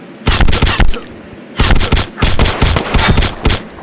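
Sniper rifle fire in the video game Lonewolf, loud rapid bursts of sharp shots in two dense clusters separated by a brief pause.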